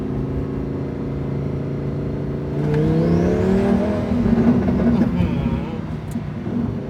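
A naturally aspirated Lamborghini HTO built by Thai firm M-tec Autocars hums steadily from inside the cabin, then its engine note climbs loudly under acceleration on the road.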